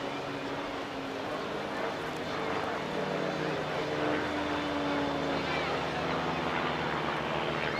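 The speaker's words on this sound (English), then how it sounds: "we've got a fan break with 3 aircraft doing what looks like derry turns in front of the centre of the beach" Three propeller aircraft of the Team Raven display team fly over the beach at the Clacton Airshow, a steady broad engine drone with shifting pitch, heard under a commentator speaking over a public address.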